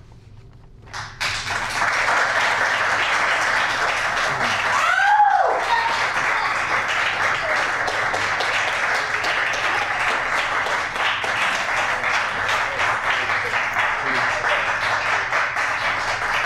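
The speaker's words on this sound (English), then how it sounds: "Let's get us back another great round of applause." Audience at a library poetry reading breaking into steady, sustained applause after a poem, a dense wash of clapping that continues at an even level, with a brief whoop partway through.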